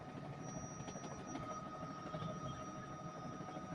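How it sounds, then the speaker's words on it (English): Steady helicopter drone heard from inside the cabin during a flight over a deadly mudslide area in Atascosa County, Texas, a continuous loud whirring with a high whine and rotor throb and no speech. "I'm really glad we got to take the chopper out"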